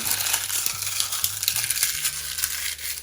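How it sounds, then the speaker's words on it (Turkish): Dried, collected leaves crumbled by hand in a steady crisp, crackling rustle with dense papery crunches, close and moderately loud, with a low background hum underneath. "Topladığımız yaprakları elimizle biraz ufalayalım."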